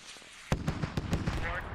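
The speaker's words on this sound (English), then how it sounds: "Looks like we've got Rocket Techie has been firing over towards this little bunch" Rocket fire from a technical vehicle in the battlefield game Squad: sharp cracking blasts arrive in a quick irregular series after a quiet start, moderately loud with a busy rumbling backdrop.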